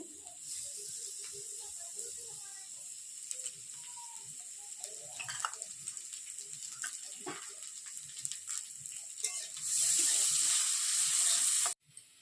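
Washed mung dal going into a hot pan: scattered clicks and clatter of utensils at first, then a loud, steady hissing sizzle swells for about two seconds before stopping abruptly.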